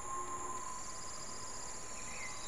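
Looping forest ambience from the Trials Fusion editor: a quiet steady bed of insect-like chirring and high tonal calls with a faint constant hiss, no voices.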